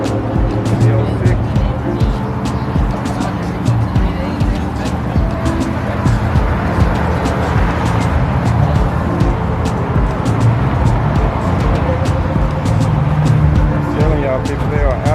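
Chevrolet Corvette Z06 launching out of a car show exit, its engine note rising and rumbling continuously close by amid a busy crowd, with people talking throughout.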